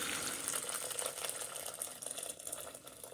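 Boiling water poured from a kettle for violet-petal tea, a steady splashing rush close by with no talk over it.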